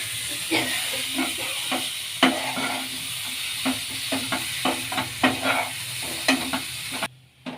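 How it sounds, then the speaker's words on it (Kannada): Small potatoes fry with spices and fresh coriander while being stirred, giving a constant sizzle and hiss with a string of scraping and clanking strokes against the pan, close up and without talking. "ಹಾಕ್ಕೊಂಡು ಒಂದ್ಸಲ ಫ್ರೈ ಹಾಕ್ಕೊಳ್ಳೋಣ"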